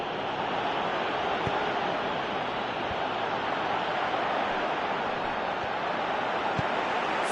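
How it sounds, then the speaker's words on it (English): Steady broadband roar of a virtual stadium crowd in the football video game PES 2018, a continuous, even wash of noise that never rises or falls, with no distinct chants or voices standing out. "Crowd calling for him to shoot."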